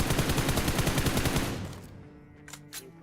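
Rapid automatic gunfire from the battle royale game BGMI (PUBG Mobile), a loud, fast burst of repeated shots for about a second and a half, then a sudden stop with a couple of faint distant pops afterward.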